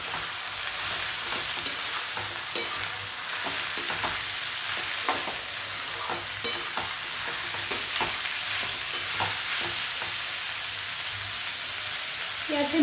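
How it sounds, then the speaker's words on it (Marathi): Vegetables for veg pulao sizzle and fry steadily in a pan, a continuous broadband crackle with intermittent scraping stir strokes, close and fairly loud, with no one speaking. "आणि याला व्यवस्थित फ्राय करून घ्यायचंय."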